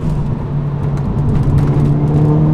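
A Ford Focus RS Mk1 driving with tires straining for grip, a steady loud engine drone with faint tire noise heard from inside the car, no talk.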